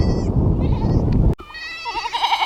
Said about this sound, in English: checking on the other goats, and one of the babies